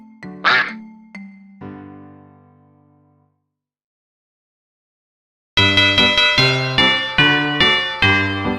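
A cartoon duck quacks in a few short nasal bursts near the start, followed by a pause and then a bright, bouncy run of plucked or keyed music notes.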